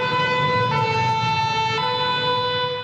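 Loud wailing emergency sirens in Paris sound close by, steady and continuous, with a low city traffic rumble underneath and no talking.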